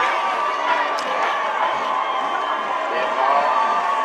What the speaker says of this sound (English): Let's see the East Lincoln youngsters clapping